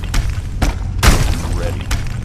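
Skyrim's Fus dragon shout fires off as a series of loud booming blasts, about four sharp bursts with the heaviest one in the middle, each followed by a short rumbling decay.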